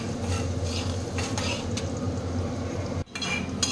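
Dried red chillies and curry leaves fry in a hot pan with steady sizzling and scraping stirring strokes, close and fairly loud, broken by a short near-silent gap before the frying resumes.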